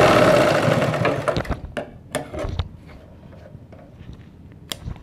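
A sewing machine stitches the side seam of narrow women's pants with a side zip. One loud close burst opens, then quieter clicks and taps follow as it slows and stops.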